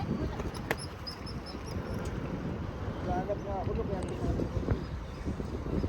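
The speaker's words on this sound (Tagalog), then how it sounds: "Dito mahangin." Steady wind rumbles and buffets the microphone throughout at the Golden Gate Bridge, with faint high chirps briefly audible in the background.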